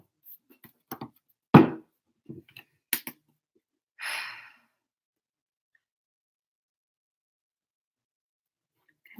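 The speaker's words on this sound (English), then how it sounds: "take a deep breath in. And a deep breath out" A few audible breaths with a pause between them: a drawn-in inhale, then a longer, softer exhale around the middle, followed by near silence, close and fairly quiet.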